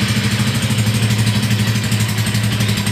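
A 2012 Honda Tiger motorcycle with about 5,000 km on it idles steadily up close, a continuous, even, low-pitched engine putter with a quick rhythmic pulse and no revving.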